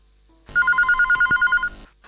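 A telephone rings for an incoming call to a radio phone-in show, a single burst of rapid trilling electronic rings lasting about a second, loud and close, with no talk over it.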